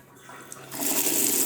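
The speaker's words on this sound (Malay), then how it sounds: "Sekarang saya sedang buka air. Bila buka air, nampak air keluar." Water gushes from a tap being opened in a bathroom under refurbishment, the flow starting quietly and swelling into a loud, steady rush close by.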